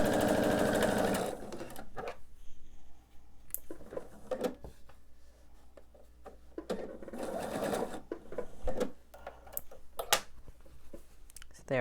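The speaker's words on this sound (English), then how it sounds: "just going to make sure to sew right on top of the stitching that I've already done." A sewing machine stitches a quilt block, running over existing seam stitching in several stop-and-start bursts of rapid mechanical whirring with brief pauses between runs, close and clear.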